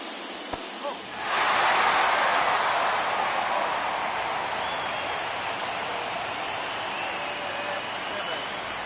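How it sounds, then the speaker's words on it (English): Rain in the MLB The Show 24 baseball video game sets in after a brief quiet moment: a steady, loud wash of hiss that swells up and then holds evenly to the end. "It's raining now."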